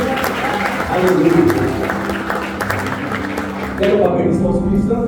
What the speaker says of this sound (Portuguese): Você pode dar um aplauso por essa palavra nessa noite?